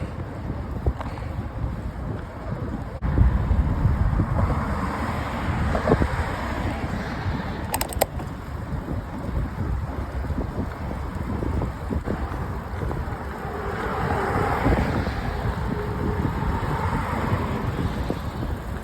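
A headwind buffets the microphone while cycling up a bridge on the Erie Canal Trail, a steady rumbling roar with gusty swells throughout.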